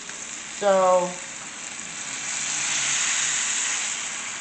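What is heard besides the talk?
boneless leg of lamb searing in a pan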